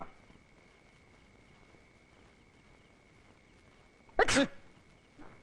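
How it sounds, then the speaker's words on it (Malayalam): A single sharp sneeze from a man in an old Malayalam comedy film scene, sudden and loud after quiet background hiss, followed by a faint trailing sound. "ഞാൻ തുമ്മിയതാ"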